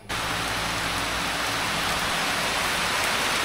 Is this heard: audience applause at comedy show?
no